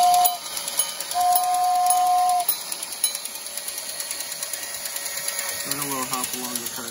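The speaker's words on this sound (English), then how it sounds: "Give it a whistle." An old, loud Bright G gauge Disney toy train sounds its whistle: a steady tone lasting roughly a second and a half, set over the constant mechanical whir and ticking of the running toy, with a voice heard briefly near the end.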